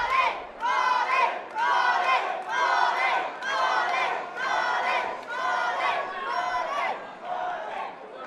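A large boxing crowd chants in loud rhythmic waves, roughly one surge per second, repeated steadily throughout, near and filling the hall.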